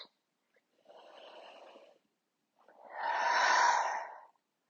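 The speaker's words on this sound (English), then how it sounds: "Breathe in, out." Two slow breaths during an abdominal strengthening exercise, a softer inhale followed by a longer, louder exhale, close up with silence around them.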